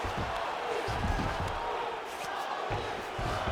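A mixed martial arts arena crowd cheers and applauds after a grappling exchange between Tony Ferguson and Dustin Poirier, a loud, continuous roar with scattered bursts and a brief dip near the end.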